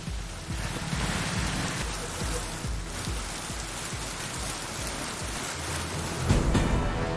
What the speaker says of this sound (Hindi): उदयपुर में जमकर हुई बारिश।